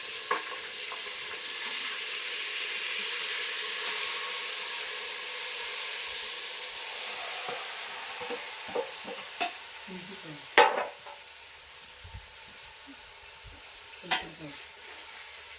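Masala-coated dried snakefish frying in a hot pan, a steady loud sizzle and hiss with scraping stirs and a few sharp clinks of a spatula against the pan near the end.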